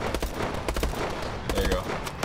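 Gunfire in the Call of Duty: Advanced Warfare video game: loud bursts of automatic fire with sharp repeated cracks, close and steady throughout, with occasional speech mixed in.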